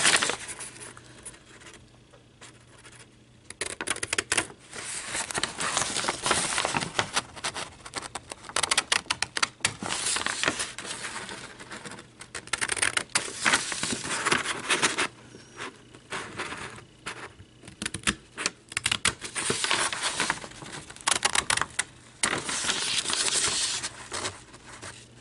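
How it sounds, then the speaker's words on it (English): Scissors snip steadily through a paper place mat along printed lines, a close, continuous run of crisp cutting and rustling that pauses briefly now and then. "to where I can cut on the solid lines around here"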